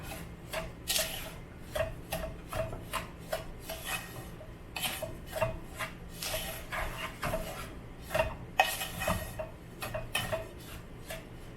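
Semolina and sugar being stirred in a pan give a busy run of close scraping and clinking strokes from a spoon against the metal, fairly loud and irregular, with no voices.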